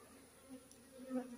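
Faint buzzing of a bee swarm in a field, a soft droning hum that swells briefly, quiet and alone.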